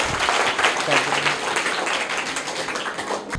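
Children in a classroom quiz applaud a correct answer, a dense patter of many small hands clapping steadily for a few seconds, with a faint voice briefly mixed in.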